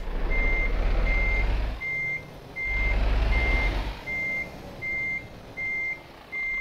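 Truck reversing beeps in Euro Truck Simulator 2: a steady, evenly spaced run of loud electronic beeps over a low, pulsing diesel engine rumble that swells and eases as the truck backs up.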